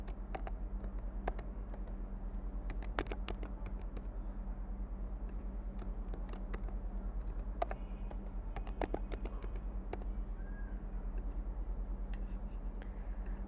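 Password being typed on a computer keyboard, a steady run of quick, light key clicks with brief pauses, close and clear over a low constant hum, no voices.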